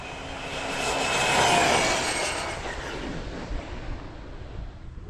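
A Redcat Kaiju EXT RC car motor runs at full throttle on a speed run, a loud high-pitched whine that swells over the first two seconds, then steadies and slowly fades as the car pulls away.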